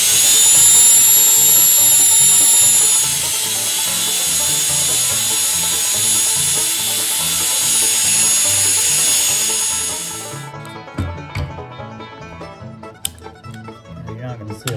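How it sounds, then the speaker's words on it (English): A power drill spinning 1000-grit sandpaper wrapped around a gun pin whines at high pitch for about ten seconds, then cuts out, leaving quiet clicks and handling noises. "Chuck it up in a drill."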